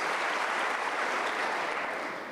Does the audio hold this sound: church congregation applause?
yes